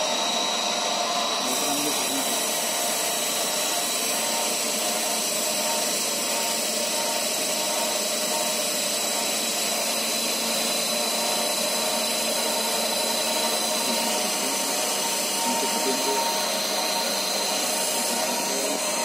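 A synchronous generator in a laboratory spinning up near 1600 rpm, a steady high whine with humming tones above a constant mechanical drone, running continuously and fairly close.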